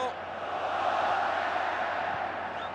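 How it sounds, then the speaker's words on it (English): Large football crowd at the Castelao stadium chanting olé during a Confederations Cup semi-final between Spain and Italy, a steady distant roar of voices held for a few seconds. "you can hear the ole from the crowd at Castelao"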